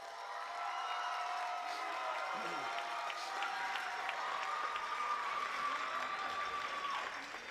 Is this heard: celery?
no